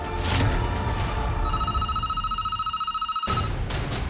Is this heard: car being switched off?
no